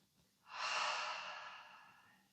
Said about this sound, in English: And just breathing with me.